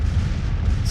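Civil War cannon fire in the strategy game Grand Tactician: The Civil War 1861-1865 makes a loud, dense, low rumble of overlapping booms that rolls on without a break.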